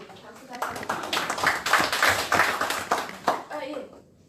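Audience applause at a Korean party committee meeting, a dense run of clapping that swells and fades over a few seconds, with voices talking over it.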